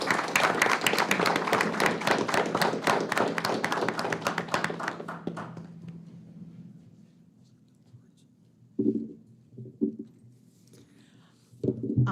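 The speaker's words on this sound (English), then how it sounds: "please give a round of applause for Virginia Dial" A courthouse audience at a Pulaski County fiscal court meeting bursts into dense, close applause for an honoree, clapping steadily for about five seconds before fading into scattered taps and thumps.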